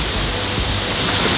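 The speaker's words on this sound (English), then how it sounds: "The power coming off of that waterfall is absolutely crazy." Seljalandsfoss waterfall in Iceland, a powerful cascade you can walk behind, gives a steady, dense roar of falling water that is loud and close and stays unbroken throughout.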